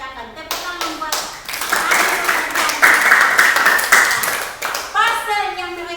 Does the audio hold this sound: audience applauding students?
yes